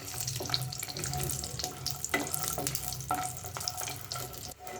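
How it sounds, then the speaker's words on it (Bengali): Lentil dumplings (bori) frying in oil until reddish, heard as a close crackling sizzle with irregular pops and scraping stirs, and a brief clatter near the end. "একটু লাল লাল করে বড়িটা ভাজা হবে"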